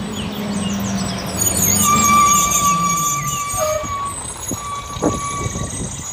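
Toy garbage truck sounding steady electronic reversing beeps, a run of close repeated tones over a whirring mechanical drone, with a few clicks and knocks of handling toward the end.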